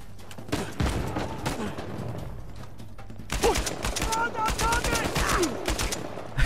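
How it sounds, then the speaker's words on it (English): Bursts of AK rifle fire in the video game Uncharted 4 come in rapid, rattling volleys. A quieter stretch gives way to louder, denser firing in the second half, with game effects mixed in and little sign of talk. "It still sounds weird for an AK."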